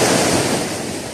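Sea waves breaking in strong wind, a loud, continuous roar of surf mixed with wind buffeting the microphone, heard close and without speech.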